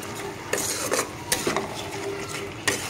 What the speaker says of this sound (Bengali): তো মশলাটাকে আমি ভালোভাবে কষিয়ে নেব